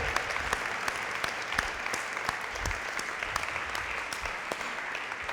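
A church congregation applauds at night, a dense, steady clatter of many hands clapping throughout, moderately distant with no voices standing out.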